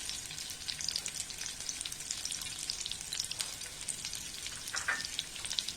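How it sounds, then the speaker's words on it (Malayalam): Chopped onion fries in hot oil for a macaroni pasta dish, producing a continuous bright crackling sizzle at close range with no voices. "ഓയിൽ ഒന്ന് ചൂടായി വരുമ്പോഴേക്കും നമുക്കിതിലേക്ക് നമ്മൾ കട്ട് ചെയ്ത് വെച്ചിരിക്കുന്ന ഒണിയൻ ചേർത്ത് കൊടുക്കാം"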